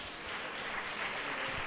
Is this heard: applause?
yes